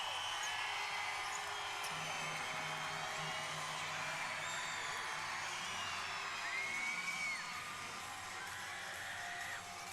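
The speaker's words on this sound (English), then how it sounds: "listen to this Savannah crowd embrace their team" A home crowd at a Savannah pro women's basketball game whoops and cheers for their team late in the game, a broad, echoing roar sustained throughout the arena with scattered shrill yells.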